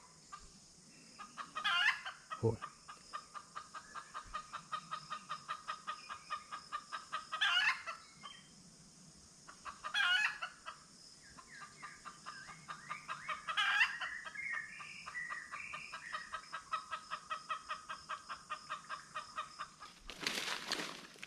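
Decoy chickens cluck during a forest hunt. Rapid rhythmic clucking pulses run steadily at moderate distance, broken by louder crowing calls every few seconds, with no talking.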